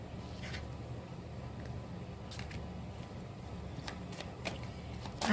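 Tarot cards are shuffled and drawn by hand, soft papery riffles and flicks close by but faint, scattered irregularly over a quiet background.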